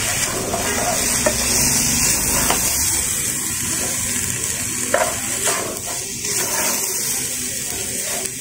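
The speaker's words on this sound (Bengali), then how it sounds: "এখন এগুলোকে রাইসের সাথে খুব ভালোভাবে ভেজে নেব।" Rice fried with a tablespoon of nut paste for Bengali morog polao, with a steady sizzle and scraping stirs throughout, spoon knocks now and then, and no talking.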